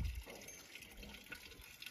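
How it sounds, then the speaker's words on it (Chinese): Water gushing steadily from the only outdoor tap at a rural Tibetan home, a continuous close rushing splash that holds even throughout the short stretch. "看到齐翠在这里放水。"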